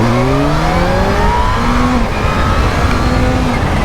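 A Kawasaki Z H2 motorcycle accelerates hard from a standstill on a 0 to 60 run. The engine note rises in pitch through the gears, with brief dips at the upshifts, loud and close throughout.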